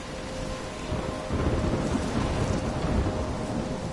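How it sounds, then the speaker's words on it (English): A thunderstorm with rain in the Life is Strange video game: rolling thunder rumbles over a steady, close wash of falling rain, with no voices. "I'm trapped in a storm?"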